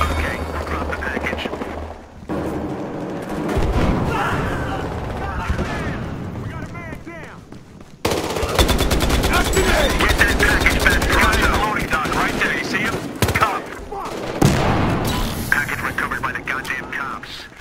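Gunfire from the video game Battlefield Hardline, a heavy blend of shots and explosions pounding almost continuously, with a brief lull around the two-second and eight-second marks; players talk over the game throughout.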